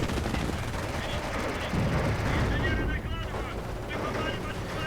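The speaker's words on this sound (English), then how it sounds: "Machine guns firing away." Machine guns fire away during a 2v2 battle in the Company of Heroes EF mod, a dense, continuous chatter of gunfire mixed with explosions and battle noise that runs loudly through the whole stretch.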